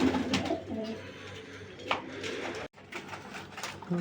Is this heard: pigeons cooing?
yes